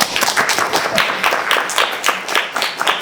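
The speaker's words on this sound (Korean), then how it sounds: "박수!" An audience at a talk event applauds, a dense, steady patter of many hands clapping at once, fairly close and lively, with no speech over it.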